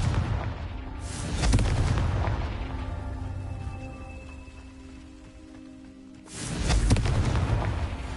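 Confringo fire spells in the Hogwarts Legacy video game set off two loud, roaring explosion bursts, several seconds apart. A rumbling tail trails off between them.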